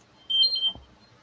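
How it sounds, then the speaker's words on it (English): A short electronic alarm chirp, a pair of bright high beeps lasting under half a second, followed by a low thump, in a quiet room where coffee is being discussed. "I thought I set off an alarm"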